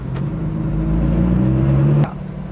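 Lotus Exige sports car pulling away, its engine note rising in pitch and volume for about two seconds before abruptly dropping off with a click, close and clear with no talking.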